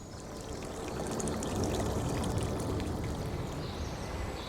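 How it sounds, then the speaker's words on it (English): Heavy rainwater rushes and whooshes off slates and down a forest hillside channel, a dense, loud, continuous torrent close by, with no talk over it. "The water's like whooshing off."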